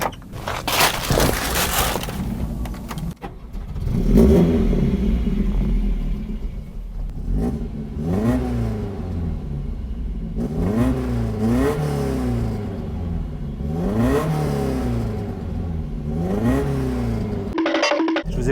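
A Lancia rally car's engine is revved repeatedly, loud rising and falling blips of revving between a steady idle, close by and with no talk.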